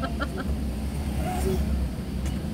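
Heavy road traffic in the Philippines, heard from inside a moving vehicle: a dense, steady low engine rumble with cars close by, and a few brief honks and squeaks near the start, while voices talk.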